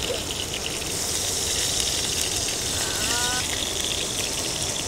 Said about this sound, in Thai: ตอนแรกน่าจะได้ยินแต่เสียง เสียงน้ำตกอ่ะครับ